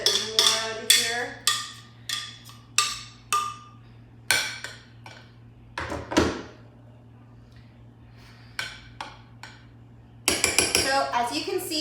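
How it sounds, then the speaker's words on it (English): Dishware clinks and scrapes in a series of short, separate hits, like a spoon scooping a no-bake dessert of layered Maria biscuits from a dish, close and moderately loud, with quiet talk under it. "just gonna try to scoop a little bit more out of here"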